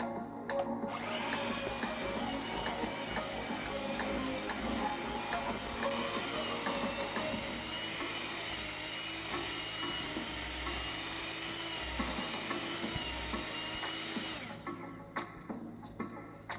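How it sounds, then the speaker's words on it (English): An electric mixer whisks butter and sugar into cupcake batter, giving a steady, loud whirring drone that runs without a break and then cuts out near the end. "Whisk until the batter turns yellow. Continue to mix until the butter and sugar turn a light yellow."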